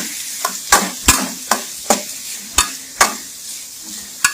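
Three large chopped onions with green chillies and a big tomato sautéing in a pan, a spatula scraping and stirring in roughly eight sharp strokes over a steady sizzle, close and fairly loud.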